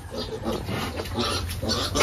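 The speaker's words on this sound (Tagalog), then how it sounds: "napakalaki hong baboy" Very large pregnant sow in her first pregnancy grunting in repeated low, rhythmic bursts, close by in a pen.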